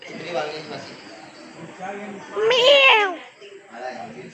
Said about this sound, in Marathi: काकांचं मांजर आहे